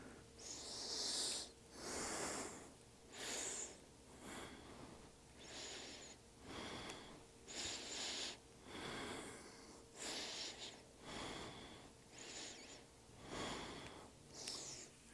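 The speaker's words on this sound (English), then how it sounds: "Five more breaths here." Slow, deep breaths during a yoga stretch, about nine to ten long breathy inhales and exhales in a steady rhythm, close and soft with a slightly nasal, airy texture and no talking.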